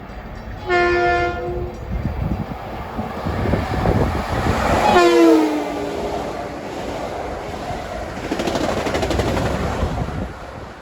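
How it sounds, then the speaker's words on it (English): Long Island Rail Road train 2076, Atlantic Terminal to Ronkonkoma, passes New Hyde Park station during the evening rush. A steady, close rumble of wheels runs throughout, broken by two loud horn blasts, one early and one near the middle. "That last train was train 2076 out of Atlantic Terminal to Ronkonkoma"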